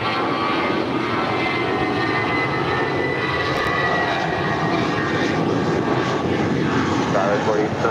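A Qatar Cargo Boeing 777 takes off at LAX, its broad engine roar steady and loud throughout, filling the whole clip without letup.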